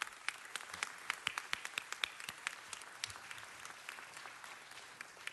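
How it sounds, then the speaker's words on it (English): An audience at a city council meeting applauds a Marine sergeant, with scattered claps building into a sustained round that tapers off, heard from a distance. "Let's give him a round of applause."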